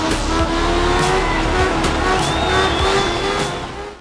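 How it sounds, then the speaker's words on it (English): A rally car in the video game Art of Rally revs hard, its engine and turbo whining and rising in pitch at close range, with tire noise and brief skids, fading slightly at the end; no talking. "From the sounds of your car's engine, the turbo fluttering, collisions"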